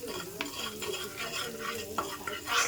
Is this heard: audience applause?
no